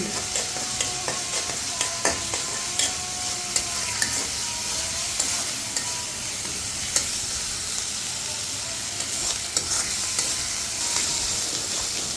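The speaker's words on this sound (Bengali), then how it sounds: "এই যে আমি মশলাগুলোকে ভালো করে কষিয়ে নিচ্ছি" Spice masala sautés in a pan for koi fish curry, with a steady, loud sizzle broken by repeated spatula scrapes and stirring strokes and no talking.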